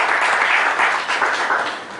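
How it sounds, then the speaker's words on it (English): An audience at a panel discussion claps continuously, a dense even patter of hands that holds steady and then fades slightly toward the end. "So a good round of applause for all the 4 panelists."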